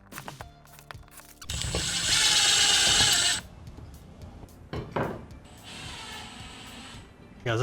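A power drill drives screws with washers into a wall to mount a GiraffeTools retractable vacuum, one long loud whirring burst then a shorter second run, with clicks and handling noises around them.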